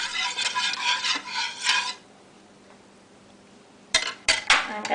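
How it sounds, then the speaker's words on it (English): A spoon or whisk scrapes and clinks in a pan of turkey gravy in rhythmic stirring bursts, pausing for a couple of seconds before several sharper metallic scrapes resume close up. "That is a lot of stirring that you're doing."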